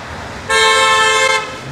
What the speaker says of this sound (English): And they honking for you.